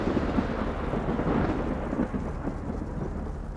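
A thunderstorm with rain, where a loud, continuous rumble of thunder rolls over a steady hiss of falling rain, with no voices.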